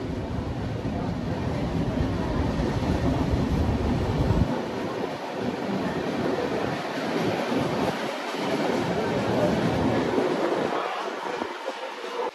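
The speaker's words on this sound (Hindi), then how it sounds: "देखो ये ट्रेन है और मैं इसके ऊपर हूँ" Train rumbling continuously close by, recorded from on top of a train, with strong wind buffeting the microphone; the low rumble drops out after the first few seconds, leaving wind roar with brief low surges.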